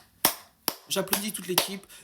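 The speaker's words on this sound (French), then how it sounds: "Alors, j'applaudis toute l'équipe" A football coach claps his hands for his team at a press conference, a few sharp, close claps spaced apart, mixed with his speaking voice.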